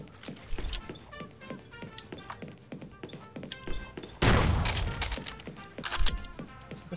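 Gunfire in the video game The Specialists: rapid sharp shots in uneven bursts, with a louder blast and crackling burst midway, mixed with mechanical clicks and thuds.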